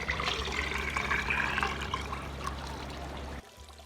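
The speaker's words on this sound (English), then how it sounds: "Now that our sugar has completely dissolved, we can just pour this into our vodka." Lemon sugar syrup poured into vodka for homemade limoncello makes a steady close liquid trickle and splash that runs for a few seconds, then cuts off abruptly near the end.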